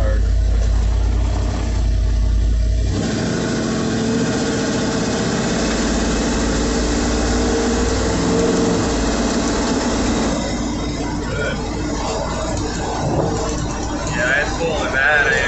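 A 1986 Ford F350 engine running after a rebuild, a loud steady rumbling idle close by, with people talking over it.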